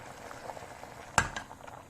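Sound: pumpkin boiling in a pot in its own juice

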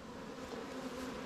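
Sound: honey bee swarm buzzing at hive

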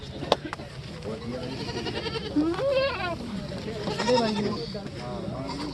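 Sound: goat bleating

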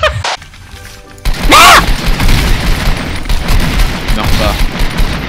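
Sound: shotgun fire in DarkRP video game

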